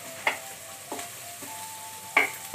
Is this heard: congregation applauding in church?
no